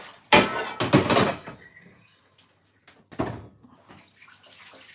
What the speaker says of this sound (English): Let's wash my hand.